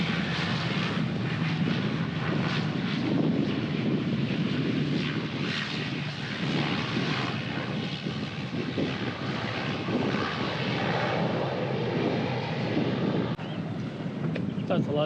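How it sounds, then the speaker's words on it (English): A small propeller plane drones steadily nearby in the Grenadines, its engine noise filling the clip with a broad, continuous roar. "That's a lot smaller plane."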